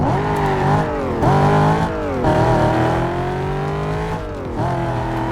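Police Pontiac GTO in Need for Speed Most Wanted, its engine revving and rising through gear changes, with repeated pitch climbs and drops as it accelerates, loud and up front.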